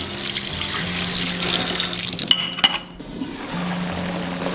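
Plates are rinsed under a running kitchen tap. Water gushes steadily at close range, with occasional clinks of dishware knocking together.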